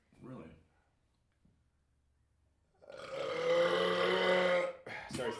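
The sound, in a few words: loud belch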